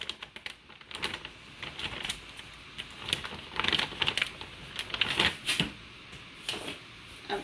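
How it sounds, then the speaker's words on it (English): A plastic bag of meatballs is handled and pulled open in a kitchen, giving a close run of crinkling, rustling and tapping bursts that swell and fade irregularly, with no talk. "As we do, as I figure out how to open a bag of meatballs."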